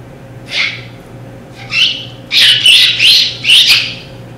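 A human voice imitates the call of American blackbirds with a series of sharp, chirping whistles, one short call followed by a quick run of loud, close bursts.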